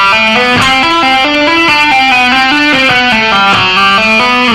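A loud electric guitar plays a rock lick at a slow tempo, its notes flowing smoothly through hammer-ons, pull-offs and first-finger slides, clear and up close.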